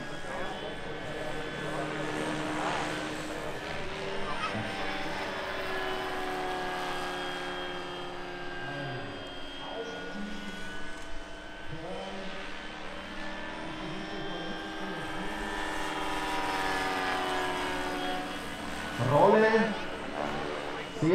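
A large Vario Bo 105 RC scale model helicopter flies aerobatics, including barrel rolls and turns, at an outdoor model event. A steady, loud rotor and turbine whine shifts in pitch throughout, with someone commentating over it.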